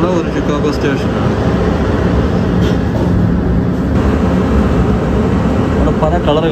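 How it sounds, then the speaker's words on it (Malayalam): A Chicago train station at Clark and Lake, loud continuous rumble of trains and station machinery filling the whole stretch, with people talking faintly underneath. "ഇത് ഷിക്കാഗോയിലുള്ള ഒരു ഷിക്കാഗോ സ്റ്റേഷനാണ്."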